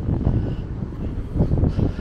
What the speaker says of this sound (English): Bit windy though.